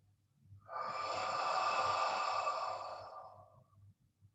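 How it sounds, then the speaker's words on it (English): A long, steady exhale during a qigong exercise, paired with a hands-washing-down movement, breathy and close, swelling and then fading over about three seconds with no talking. "breathing out"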